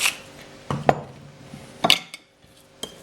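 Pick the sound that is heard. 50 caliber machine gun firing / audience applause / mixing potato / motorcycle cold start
mixing potato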